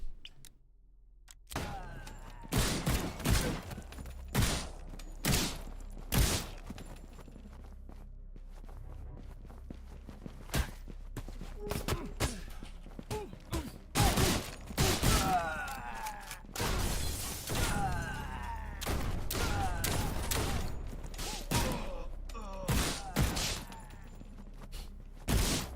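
Gunfire and enemy footsteps in the indie game Suit for Hire, with repeated loud sharp shots and bursts spread across the clip amid steady in-game movement sounds.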